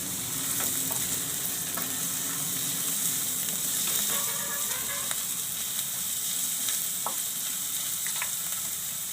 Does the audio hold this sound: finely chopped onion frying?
yes